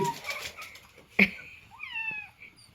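An injured kitten with a hurt leg gives a few short, high meows, with a sharp louder cry in the middle, up close with faint background rustle.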